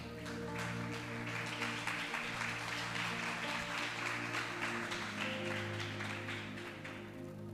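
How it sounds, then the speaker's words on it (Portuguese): Steady applause from a church congregation, dense and continuous throughout, with a sustained musical tone humming underneath. "dê uma salva de palmas para Jesus"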